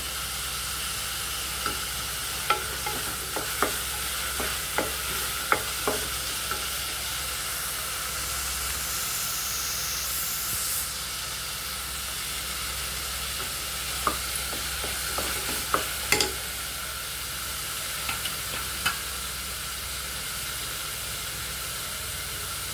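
Steady sizzling of tomatoes sautéing in a hot pan, with occasional stirring clicks and scrapes of a utensil; no voices.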